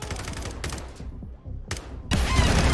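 Rapid bursts of automatic gunfire in Call of Duty Warzone 2 as players shoot at an inflatable decoy, loud rattling volleys separated by brief lulls.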